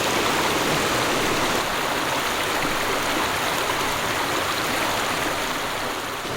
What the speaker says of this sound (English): So this is the lower part of the falls.